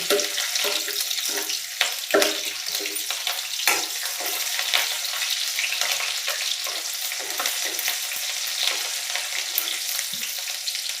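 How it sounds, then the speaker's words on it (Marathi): Cumin, garlic and green chilli crackle and sizzle in hot oil for a Gujarati sev tomato dish, a steady broadband hiss with scattered stirring scrapes throughout, close and fairly loud with no talking. "तेल गरम झालं आहे। मी हे टाकत आहे जिरं, लसूण, हिरवी मिरची,"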